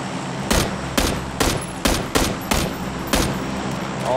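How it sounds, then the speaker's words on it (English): Gunfire in the video game PUBG: a series of seven or eight sharp, loud shots in quick, fairly regular succession, each cracking over a steady background hum. "I'm gonna shoot this guy in 3, 2, 1."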